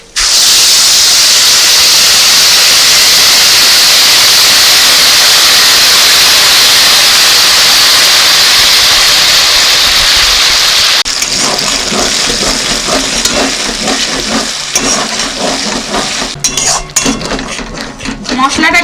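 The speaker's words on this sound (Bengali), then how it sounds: "মশলাটাকে আমি ভালো করে একটু কষিয়ে নিচ্ছি।" Whole spices, cumin, and a ground paste of cashew and melon seeds sizzle loudly in hot oil with a steady, dense hiss. Partway through it drops into busier crackling and scraping as the paste is stirred, with a voice talking over it.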